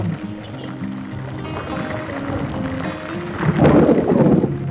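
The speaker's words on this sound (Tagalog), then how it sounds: "Grabe yung kidlat." Thunder rumbles and cracks during a heavy rain shower outdoors, a low rolling boom that swells louder toward the end over the constant patter of rain.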